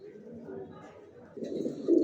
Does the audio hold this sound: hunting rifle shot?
no